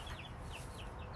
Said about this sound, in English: She is our female turkey